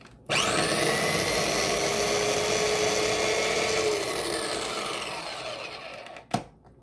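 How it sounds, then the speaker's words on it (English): A small electric mini chopper whirs loudly and steadily while chopping a green pepper for coleslaw, its motor pitch slowly sliding before it switches off, followed by a brief clunk. "So let me turn this little mini chopper on."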